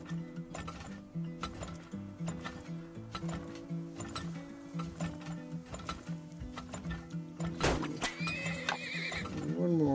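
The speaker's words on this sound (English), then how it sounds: "One more horse." Golden Sun video game horse sounds: rhythmic clip-clop hoofbeats over tinkling game music, with a loud whinnying neigh near the end, all in-game audio.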